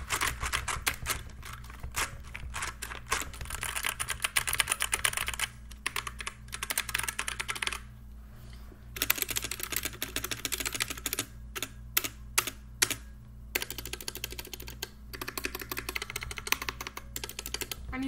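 Fast continuous typing on a DIERYA 63% gaming keyboard, with dense clicky keystrokes close up and brief pauses between bursts, heard alone without speech.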